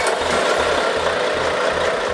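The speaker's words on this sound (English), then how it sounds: "There, behind the windows, the engine springs into life for its first time." A new Volvo heavy-duty diesel truck engine runs for its first time in a factory test cell behind windows, giving a close, loud, rhythmic low throb with steady pulses.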